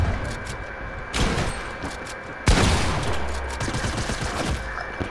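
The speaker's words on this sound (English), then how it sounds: "Of course you got sprayed with the SMG." SMG gunfire in Fortnite, loud rapid bursts of shots spraying in two main volleys with rattling echoes between them, no voices.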